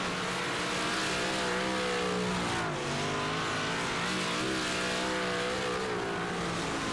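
Big-block Super Dirt Car Series race cars in the iRacing sim roar together in a dense, continuous pack, engines rising and falling as they rev through the turns of a dirt-track heat race.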